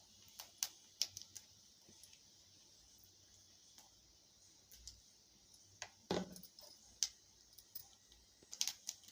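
Mustard seeds crackling in a generous pour of hot sesame oil for mango pickle, giving scattered sharp pops and ticks, faint and irregular over a quiet background hiss, with a louder burst near the middle.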